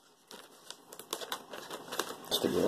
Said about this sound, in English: I hate these damn plastic thing, but scissors work good for this.